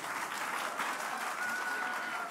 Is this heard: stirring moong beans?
no